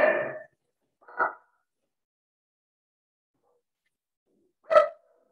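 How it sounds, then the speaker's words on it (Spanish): Dogs bark three times, short and separate, with a long quiet gap before the last, loud bark. "Me están ladrando los perros."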